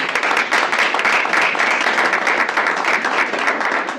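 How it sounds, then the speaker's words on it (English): Staff at a team meeting give themselves steady, close applause, a thick continuous patter of many hands clapping at even loudness for several seconds. "I want you to give yourselves a round of applause"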